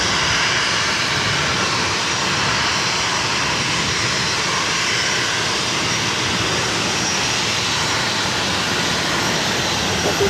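A jet airliner takes off from runway 22 right at Boston Logan, a loud, continuous broadband engine roar sustained close and steady throughout, with no voices.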